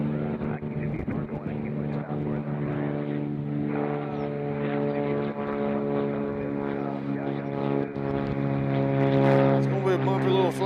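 A smallish airliner at Nashville International Airport drones with a steady, tonal engine hum that swells toward the end, while a person talks over it.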